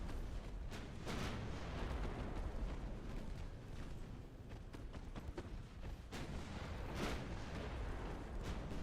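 Battleship 11-inch guns from the naval game Ultimate Admiral Dreadnoughts fire heavy booming shots over a dense, continuous rumble of battle, with several distinct blasts spaced a second or two apart and no voices.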